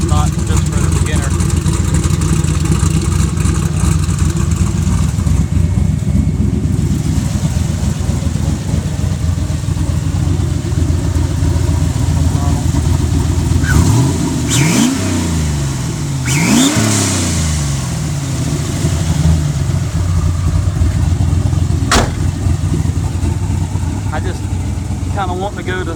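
A Datsun 280Z engine runs steadily with a low, throaty drone, then gets two or three quick rising revs about midway through before settling back to a constant loud hum.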